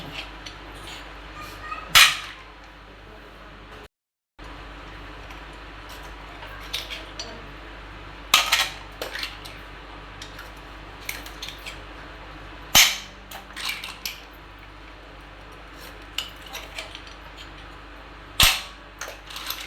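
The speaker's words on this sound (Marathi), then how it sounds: "आता हे तिसरे कोलायता" Tisreo clams being cracked open for a Goan-style dry recipe, sharp loud snapping cracks every few seconds with small clinking and rustling shell sounds between, close and alone.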